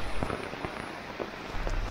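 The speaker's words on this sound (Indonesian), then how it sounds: "tiba-tiba terjadi hujan deras kembali" Heavy rain pours onto a camping hammock tarp on a hillside near a waterfall, a dense steady hiss with scattered louder drop impacts pattering close by.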